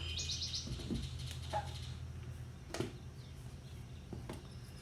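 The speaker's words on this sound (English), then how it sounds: "a little bird right here next to me. There it went." A small bird peeps beside a window, giving a few faint, high chirps scattered through a quiet indoor background.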